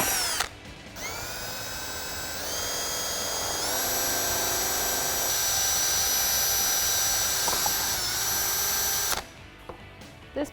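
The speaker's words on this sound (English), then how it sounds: "So we can go ahead and drill that" Power drill boring a hole into a plastic Jeep Wrangler JL tailgate table panel, a steady high whine held for several seconds, close and loud, starting and stopping abruptly.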